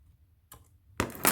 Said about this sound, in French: je prends les ciseaux parce que c'est pas non plus tout à fait sec